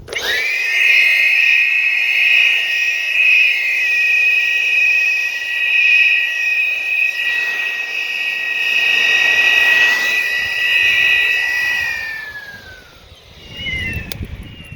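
Several demon whistles blown at once give a piercing, very loud sustained shriek with stacked high tones, holding steady for about twelve seconds before tailing off, followed by a brief rustle.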